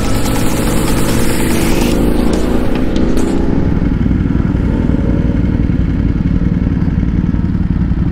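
A group of big bikes rides out together in Upper Marikina, their engines rumbling loudly and continuously close by, with one machine sweeping past early on while the others idle and rev.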